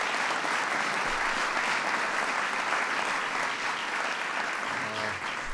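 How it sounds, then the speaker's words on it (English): A large audience at a White House ceremony applauds steadily in a dense, sustained wash of clapping that stays loud throughout, easing only slightly near the end. "So please give him a big round of applause."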